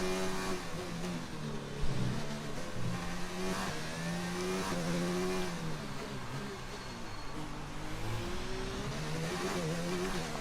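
A racing-game race car engine revs hard through its gears on a Monaco qualifying lap, loud and close, with rising and falling pitch between shifts and a brief tire squeal.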